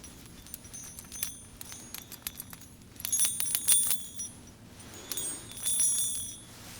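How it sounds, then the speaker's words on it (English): A small enchanted bell is shaken, giving bright, clustered metallic tinkles in quick bursts that come and go, fairly near and alone with no talking. "My next item is this enchanted bell."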